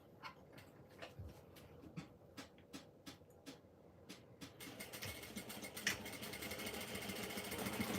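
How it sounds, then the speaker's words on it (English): A sewing machine stitches fabric for a beachcomber pouch, starting as short separated bursts and building into a continuous steady whir over the last few seconds, close and fairly quiet. "I'm going to top stitch this, or I mean stitch it on and then top stitch it"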